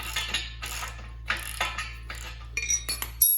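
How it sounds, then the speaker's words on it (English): A 22 mm bolt is loosened on a Harbor Freight 2-ton engine hoist, with a series of separate metallic clicks and ratcheting clanks over a low steady hum, ending in a sharp final clank. "I took these bolts, the ones I just tightened, which are 22 millimeter. And loosen them up."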